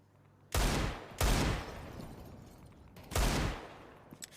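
Three loud pistol shots in a tactical video game shooter, headshots landing in quick succession: two close together, then a pause and a third, each sharp blast trailing into a short decay.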